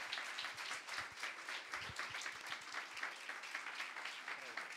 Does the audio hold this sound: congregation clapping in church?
yes